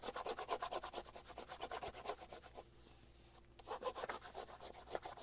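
A hand rubs and smooths paper for a junk journal in rapid, continuous scratchy strokes, pausing briefly midway before resuming, close by and fairly soft, with no voices.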